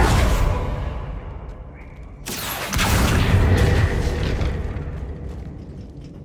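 A loud fiery burst from a Confringo spell in Hogwarts Legacy erupts suddenly after a quieter rumble, then a roaring blast rolls on and slowly fades away.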